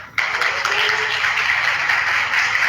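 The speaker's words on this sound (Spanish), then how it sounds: "démosle un fuerte aplauso para recibirla" An audience at a Catholic retreat breaks into loud, sustained applause all at once to welcome a speaker. The dense clapping holds steady and close to the end, with no voices heard.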